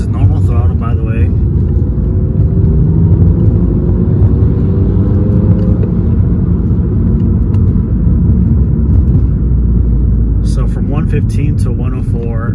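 A car engine accelerating at normal throttle through first to third gear with an aftermarket air intake, a steady close rumble with rising tone, as someone talks over it.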